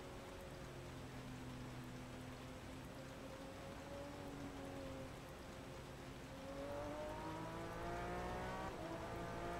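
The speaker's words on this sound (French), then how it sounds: "Permettrait d'apprécier également le son dans l'habitacle au niveau de la pluie." Steady rain hisses on the roof from inside a car in a racing video game, with a car engine droning and rising in pitch underneath.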